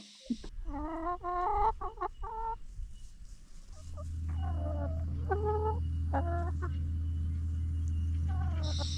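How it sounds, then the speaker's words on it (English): Hens clucking and cackling in short bursts, fairly close, over a steady low hum that starts partway through. "So we have 15 chickens and we get an egg every day."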